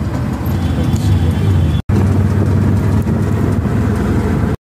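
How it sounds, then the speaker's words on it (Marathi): Auto rickshaw ride through street traffic near Vashi, with a steady loud engine drone and road rumble throughout, cut by two brief silent gaps. "आता मी रिक्षाने जाणार आहे."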